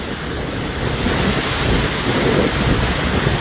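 A waterfall plunging from about 5000 feet gives off a constant, loud, broad roaring rush of water that swells slightly partway through.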